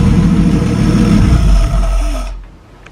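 A barn-find Talbot saloon car engine running steadily with a rough, low rumble at moderate revs, close and loud, then cutting off abruptly into silence near the end.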